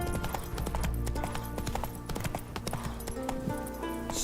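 Hooves of the horse Roach clip-clop steadily in The Witcher 3, a rhythmic stream of close hoofbeats over game music, with a faint whinny near the end.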